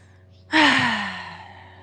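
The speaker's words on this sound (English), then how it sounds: "We're just going to take a few breaths here." One slow, deep exhale during a yoga breathing exercise, a sudden breathy rush that fades gradually over more than a second, close to the microphone and alone.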